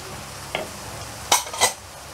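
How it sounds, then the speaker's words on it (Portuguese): A spoon scrapes through a cod roll mixture with parsley and corn in a kitchen, giving a short soft scrape followed by two sharper clinks against the bowl over a quiet, low background hum. "Vamos aqui mexer."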